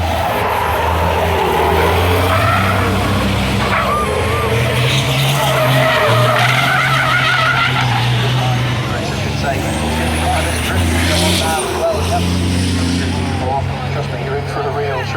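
Loud engines roar and tires skid and squeal as heavy racing trucks slide around the Brands Hatch circuit during a British truck race, with a voice talking over the din throughout.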